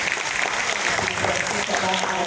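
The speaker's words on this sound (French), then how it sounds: "Est-ce qu'on peut l'applaudir?" An audience applauds steadily with dense, continuous clapping at a school gathering honouring its founder, a crowd sound that fills the room without pause.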